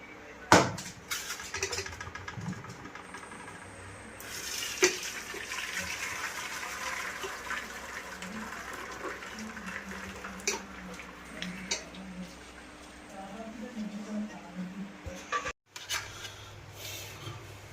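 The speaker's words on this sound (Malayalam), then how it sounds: "ഇനി നമുക്കത് വെള്ളത്തിനകത്തുനിന്ന് എടുക്കാം. വെള്ളത്തിനകത്തുനിന്ന് ഊറ്റിയെടുക്കാം." Water drains off boiled elephant foot yam in an uneven wash of pouring and trickling, with soft rubbing and a few knocks and clatters of the pot close by.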